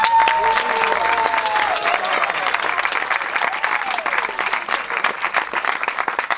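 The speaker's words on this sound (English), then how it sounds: "let's give a big round of applause for this family" Applause from an audience welcoming a family at a devotional initiation ceremony, steady dense clapping filling the room for several seconds, with voices and some cheering mixed in.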